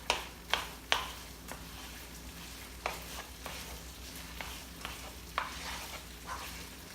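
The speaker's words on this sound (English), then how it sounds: "Use the back of this spoon to kind of smash it. I can tell it's starting to melt really good." A bamboo spoon stirs and smashes sausage dip melting in a skillet, giving a series of close, sharp scrapes and taps over a faint sizzle, with quieter stirring between the louder strokes.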